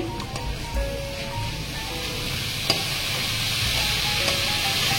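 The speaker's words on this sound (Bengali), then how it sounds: "ঢাকাটা তুলে আবার আমি নাড়াচাড়া করে নিচ্ছি।" Greens for a Jagannath shak bhog fry in an uncovered pan while being stirred, a continuous close sizzle with soft scraping and a few small clicks of the utensil.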